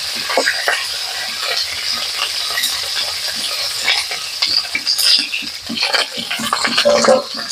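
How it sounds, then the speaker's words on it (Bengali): Cauliflower florets frying in hot oil in a pan for a chicken and cauliflower curry, giving a steady close sizzle with stirring scrapes and light utensil clinks throughout. "এবারে ফুলকপি গুলো ভেজে নেব।"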